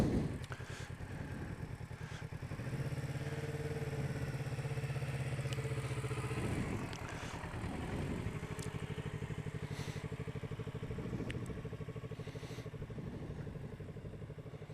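Motorcycle rolling slowly under careful slow-speed control with a light touch of rear brake, its engine a steady low throb with faint clatter held close and continuous throughout, no talk.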